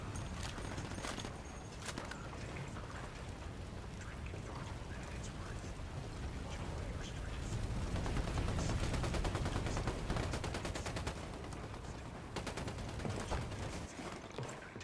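Sustained gunfire in the tactical shooter game Ghost Recon Wildlands, with rapid bursts and heavy shots crackling almost continuously for about fifteen seconds, dense and loud throughout and building toward the middle.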